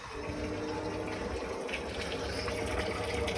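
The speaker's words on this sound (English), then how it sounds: "this obviously then just turns the bubbles on" Jacuzzi jets in a DIY IBC tank hot tub churn water with a steady, close bubbling rush and a low pump hum, continuous and unbroken.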